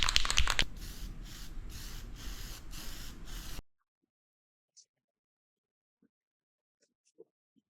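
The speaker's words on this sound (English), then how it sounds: "I just want to mist some red spray paint on it" A can of red spray paint hisses steadily for a few seconds in one continuous burst, then cuts off, leaving near silence with a few faint ticks.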